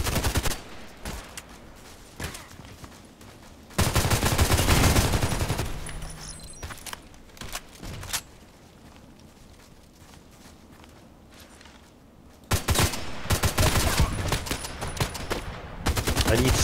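HK417 rifle fire in a video game, arriving as loud bursts of shots separated by quieter stretches of background game noise, with brief speech now and then.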